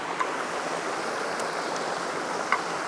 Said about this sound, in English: there's this cascading rock here with the water flowing over it